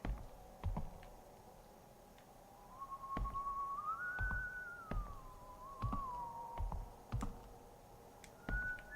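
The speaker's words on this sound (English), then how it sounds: "that's him whistling" A character in the horror video game White Day whistles a wavering, sliding tune at moderate volume, accompanied by sharp, irregular clicks and taps throughout.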